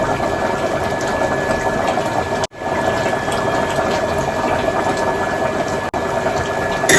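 A pot of food simmering on the stove, a steady bubbling and hissing boil that runs continuously and fairly loud, broken by two brief dropouts.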